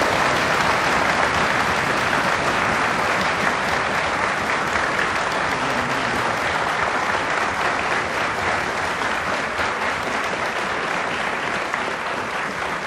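A studio audience at a 1998 Turkish special program claps loudly and continuously, a thick, even wash of applause that stays at full strength throughout.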